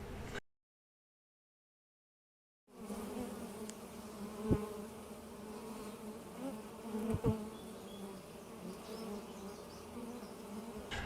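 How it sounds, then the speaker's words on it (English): Honey bees buzz close by at tubed beehive entrances, a steady droning hum broken by brief silence and a couple of sharper passes as individual bees fly near. "the bees are having no problems entering these tubes."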